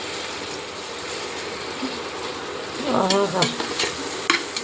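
Mint and coriander are stirred into biryani masala frying in a pan, giving a steady close sizzle with scraping, clinking stir strokes that grow louder toward the end.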